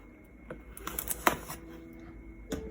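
Packing tape being cut on a Blue Yeti Blackout Edition microphone box, a few sharp close snips and scrapes with quiet rustling between them in an otherwise still room.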